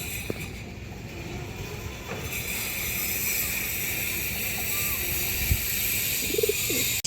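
Black-necked female pigeon coos among other pigeons, soft low calls near the end over a steady background hum and hiss.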